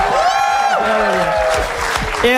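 Audience applause at a live comedy show: a dense, steady wash of clapping that fills the whole stretch, with a talking voice over it.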